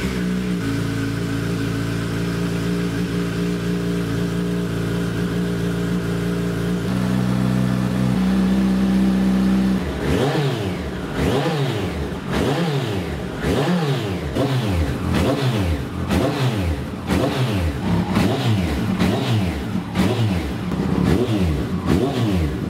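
Kawasaki ZZR1400 motorcycle fitted with Blackwidow exhaust silencers, first holding a steady loud idle and then revving hard in a rapid series of sharp, repeated throttle blips, close and loud.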